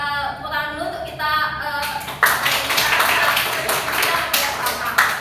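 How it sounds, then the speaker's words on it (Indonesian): Classroom of primary school pupils clapping hands together, a dense patter of claps building after a brief sung or spoken phrase, steady and fairly loud to the end. "Tepuk tangan dulu untuk kita"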